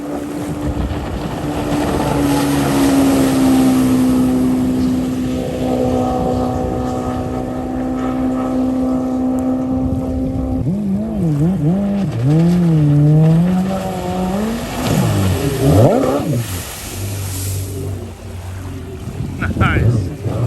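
A supercharged Yamaha FX 1800 jet ski roars across the water, a steady loud engine drone that later rises and falls in pitch as it revs and turns, with wind noise and some talk over it.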